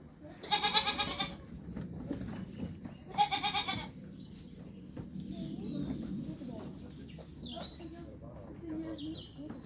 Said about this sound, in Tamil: ஆட்டை பார்த்தீங்களா உண்மையாக சீரியஸாக பயங்கரமாக இருக்குது